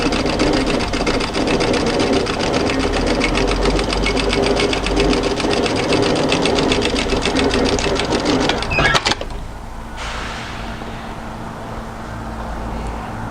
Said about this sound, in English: we're going to sew all the way down parallel to this overlocked edge towards the hem